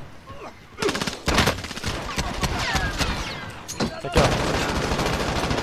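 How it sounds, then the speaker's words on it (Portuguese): Bursts of rapid video-game gunfire crackle loudly and repeatedly, with a voice speaking briefly in Portuguese over the shooting. "Ó os tiros."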